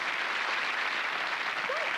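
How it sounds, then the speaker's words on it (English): Studio audience applause from a sitcom fills the moment as a steady, dense wash of clapping at moderate volume, unbroken throughout. "Look at the applause."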